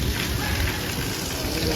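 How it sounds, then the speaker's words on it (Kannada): Heavy night rain pours down in Kuala Lumpur outdoors near a temple, with a dense, steady roar of rainfall across the whole clip and no pauses. "ಭರ್ಜರಿ ಮಳೆ ಸ್ಟಾರ್ಟ್ ಆಯಿತು."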